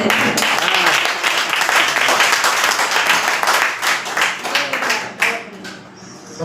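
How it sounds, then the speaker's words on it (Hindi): Audience at a live Haryanvi kavi sammelan clapping hard in a dense, steady burst that thins out and trails off near the end, with some voices mixed in. "यहाँ आप तालियां बजा रहे हो, हमारे हरियाणा में तालियां पीटी जाती है।"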